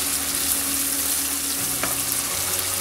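Achari masala frying with mixed vegetables and ginger paste in a pan, a loud, steady close sizzle with a short stirring scrape partway through.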